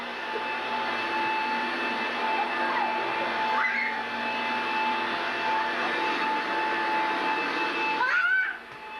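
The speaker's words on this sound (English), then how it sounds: "The vacuum that I bought today, the sweeper that I bought today, called a Caddy Vac Hoover." A Hoover Caddy Vac vacuum cleaner running indoors, a loud steady motor whine with a shifting high tone that drops off as it is switched down near the end.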